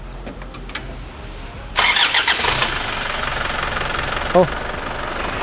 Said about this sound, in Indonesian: ini masih termasuk halus nih suara dieselnya nih